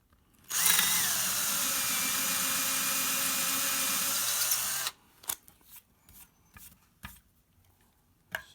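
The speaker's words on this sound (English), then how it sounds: "Now I have cleaned out all of the holes that the screws are going into." A power drill clears out screw holes with one loud, steady whine of about four seconds, followed by scattered clicks and knocks as the work is handled, with no one speaking.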